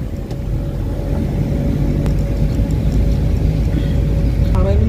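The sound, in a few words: car driving, engine and road noise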